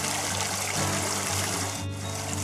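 Water trickles slowly through a Sawyer Mini Squeeze filter while wild camping on Dartmoor: a thin, steady, close-up dribble running on without pause and with no voices.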